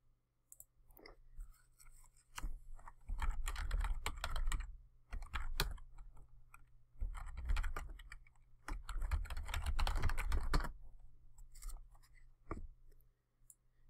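Someone types a password on a computer keyboard in quick bursts of close, crisp key clicks with brief pauses between them, fairly quiet and with no talking.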